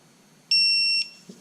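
One short, clear electronic beep, steady high tone lasting about half a second, loud and close, followed by a faint click.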